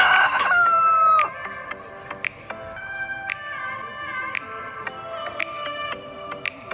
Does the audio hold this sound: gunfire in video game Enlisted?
no